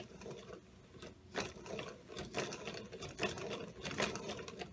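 Model three-cylinder air engine running, its slider valve knocking against the end of a nut, a rapid rhythmic mechanical clatter of clicks and ticks, close up and steady.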